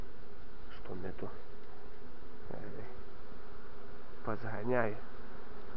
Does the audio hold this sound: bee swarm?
yes